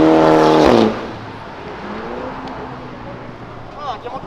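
A car passes by on an urban avenue, a loud engine sweep at first that fades into a low steady hum, with people talking over it.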